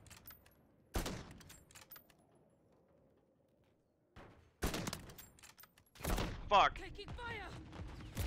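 SPX rifle firing in a multiplayer shooter game, a few loud sharp shots and bursts of gunfire separated by quieter gaps, with a voice speaking and cursing over some of the action.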